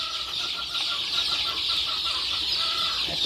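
Chicks being fed crushed hard-boiled egg, a dense, continuous chorus of high peeping from many birds close by, steady throughout.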